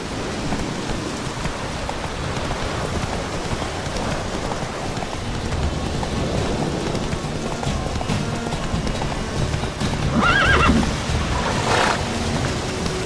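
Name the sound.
Witcher 3 horse Roach galloping, from a video game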